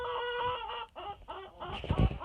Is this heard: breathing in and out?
no